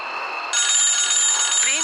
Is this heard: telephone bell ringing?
yes